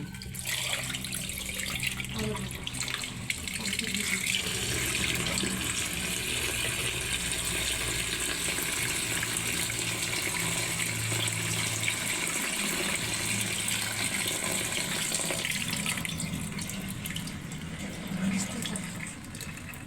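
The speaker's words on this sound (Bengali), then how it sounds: "শাকগুলো ভালো মতো ধুয়ে নিবে" Tap water runs continuously into a sink while mustard greens are washed by hand, a steady close rush with faint rustling and splashing throughout.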